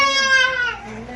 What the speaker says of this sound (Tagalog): Yun na, nag-iyak na.